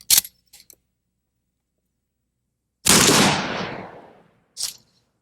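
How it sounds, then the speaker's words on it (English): A shotgun fires a rifled slug into a mannequin: one loud, sharp blast with a long decaying roar, preceded by a few faint clicks and followed by a brief short rattle. "the mannequin is shot with a rifled slug."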